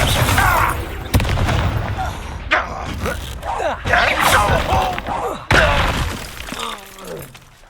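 A Confringo fire spell blast in Hogwarts Legacy hits with loud booming impacts and shattering, crashing debris during combat. Grunts and effortful voices are mixed in, and the noise is heavy at the start and swells again midway.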